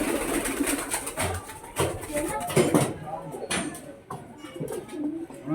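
Pigeons cooing nearby in a loft, low repeated coos mixed with rustling and clattering, with people talking over them.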